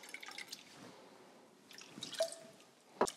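Soy sauce poured into a pot in a home kitchen, heard as faint scattered drips and small liquid splashes, ending in one sharper splash, quiet and close with no talk.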